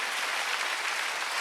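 A church congregation claps together during a Wednesday worship service, a steady, dense wash of applause that holds evenly from start to finish with no voices standing out.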